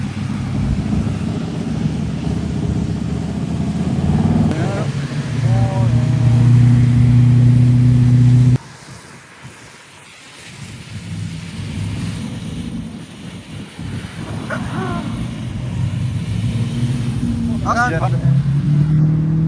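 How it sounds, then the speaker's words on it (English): Race cars rumble and rev loudly around a roundabout, engines surging past at close range, then a quieter stretch before more cars approach and accelerate. "We got some more race cars coming in."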